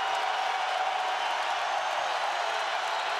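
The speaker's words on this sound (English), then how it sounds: "Standing ovation with 90 seconds left in the third" NBA arena crowd at a New Orleans Hornets versus Miami Heat game rising in a standing ovation, a dense, steady roar of cheering and clapping that holds for the whole stretch.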